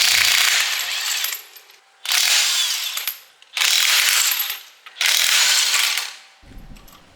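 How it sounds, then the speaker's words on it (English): A Craftsman impact wrench hammers off car wheel nuts in four loud, long rattling bursts of roughly a second or more each, separated by brief pauses, close up with no talking. "there's really no difference between number 2 and number 3, which is the highest setting, when removing the wheel nuts"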